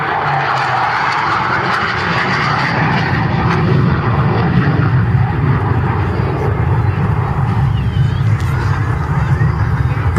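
Hawker Hunter jet aircraft, a variant powered by the Bristol Siddeley Sapphire turbojet, flying a display at East Fortune Airshow, giving a loud, steady engine roar throughout with a broad rushing tone and faint crowd or commentary sound beneath.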